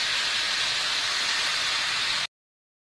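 Fish pieces drop into hot oil in a kitchen and fry with a loud, even, close sizzling hiss that holds steady and then cuts off abruptly.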